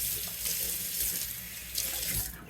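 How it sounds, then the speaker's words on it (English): Kitchen tap water running at the sink to rinse tomatoes, a continuous close splashing stream with small bursts as the flow hits the produce. "So we rinse this off."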